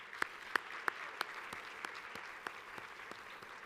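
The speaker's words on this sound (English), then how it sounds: "Please give them a round of applause again for our sponsors" Sparse applause for sponsors at a student broadcast awards ceremony: a handful of distinct claps near the microphone stand out over faint, distant clapping from a small audience, and the clapping thins out after a few seconds.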